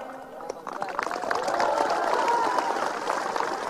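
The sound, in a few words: hesitant audience applause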